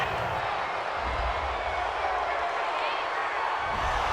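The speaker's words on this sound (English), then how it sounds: "this crowd does not like that call" A simulated stadium crowd in a Madden NFL game, Falcons at Colts, reacts to a penalty call with a sustained roar and murmur, loud and continuous, with a commentator talking over it.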